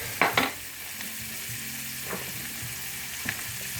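Beef stroganoff ingredients sizzle steadily in a hot pan, with a few sharp scraping stirs near the start and a couple more clinks later, alone without talk.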